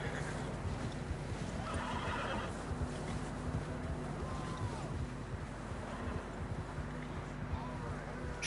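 A horse in the Red Dead Redemption 2 video game neighs and its hooves clop, under a steady wind-like ambience with voices talking over it.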